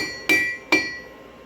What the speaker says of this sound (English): Start hammering it to get it straight